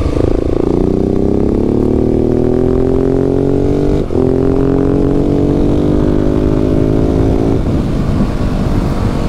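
A KTM 690 SMC-R motorcycle roars loudly up close as it rides and accelerates, its engine note climbing steadily with a brief dip at each gear shift, uninterrupted and without talk.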